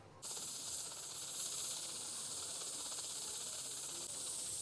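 Steam hisses steadily and loudly from a pressure cooker whistle while chicken haleem cooks, a constant rushing sound that starts abruptly and holds without pause.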